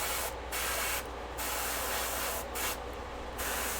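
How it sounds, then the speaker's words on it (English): Aerosol spray can emptying leftover paint during a miniature-painting session: a steady broadband hiss with short bursts that swell and fade, roughly four or five pulses, close and fairly quiet, with no voices. "I'm going to spray out the rest of this paint before I sign off tonight."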